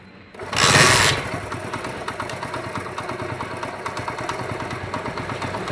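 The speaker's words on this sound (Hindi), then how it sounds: "पहले हम बाइक स्टार्ट करते हैं, स्टार्ट करके चेक करते हैं।" A motorcycle with a battery charging fault cranks and catches with a loud burst, then settles into a steady, even idle close by.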